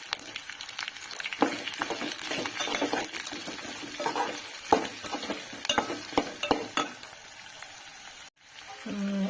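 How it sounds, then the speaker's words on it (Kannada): Okra fries in hot oil with a continuous crackling sizzle and occasional stirring clinks, loud and close throughout, with a short break just before the end. "ಹಾಗೆ ಬೆಂಡೆಕಾಯಿನ ಹಾಕ್ತೀನಿ. ಇವು ಎಣ್ಣೆಯಲ್ಲಿ ಫ್ರೈ ಆಗಬೇಕು ಒಂದು ಸ್ವಲ್ಪ."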